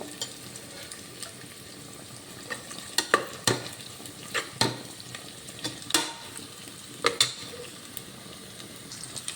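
Chicken pieces frying and being stirred in a pan for ghee rice, a steady sizzle broken by sharp scraping stirs and clinks at irregular intervals, close and alone without talk.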